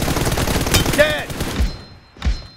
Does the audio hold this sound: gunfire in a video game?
yes